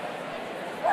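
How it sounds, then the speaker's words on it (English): A dog in Snoot Game gives a brief bark or yip within a short moment, blended with a murmur of voice-like sound. "Sorry about the dog."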